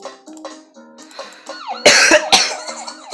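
Two sharp, loud coughs burst out in quick succession after a stretch of quiet electronic tones and beeps from the game Trollface Quest.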